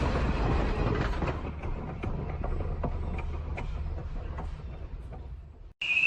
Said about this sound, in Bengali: ততক্ষণে ট্রেনের গতিবেগ অনেক বেশি হয়ে গেছিল